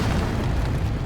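Explosion of a tank striking a mine, a loud, dense rumbling boom filling the whole moment with no speech over it.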